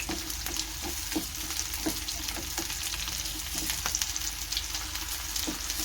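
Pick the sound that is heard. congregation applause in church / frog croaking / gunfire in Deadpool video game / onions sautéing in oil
onions sautéing in oil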